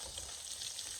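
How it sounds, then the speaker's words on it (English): Meat fries in a pan with a steady close crackling sizzle, bright and continuous throughout with no talking. "they're smelling pretty good as they sizzle away"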